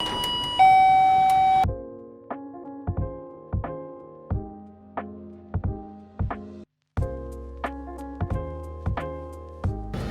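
A convenience store entrance door chime in Bangkok plays a bright melodic jingle of repeated ringing tones, loud and close, with a brief pause midway before the tune continues.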